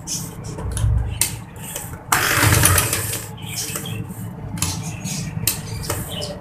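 A sewing machine stitches a seam on a baby kaftan top in one short whirring burst, set among quieter mechanical clicks and handling sounds.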